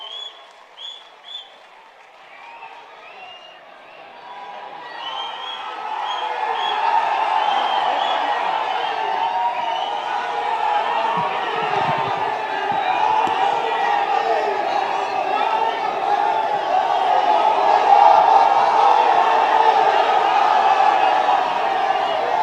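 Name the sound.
crowd applauding and cheering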